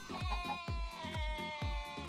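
Sheep in the Minecraft video game bleat repeatedly in a quick, regular series of short wavering cries over a steady tonal background, loud and close, with no talk.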